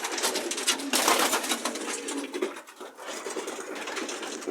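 Several pigeons in a loft give soft, throaty cooing calls with rustling and scratching, fairly close and continuous, with no talk.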